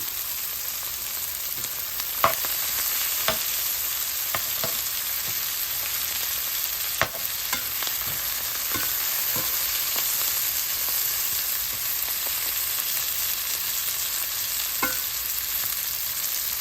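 Tomatoes sautéing in a pan for a curry give a continuous close sizzle, with occasional sharp clicks and taps of a spoon stirring against the pan.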